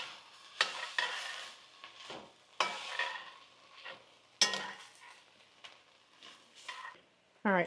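Vegetables sauté and sizzle in a pan for a taco soup, with repeated bursts of stirring and scraping at close range, loud then easing between strokes.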